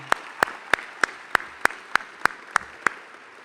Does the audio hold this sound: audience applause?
yes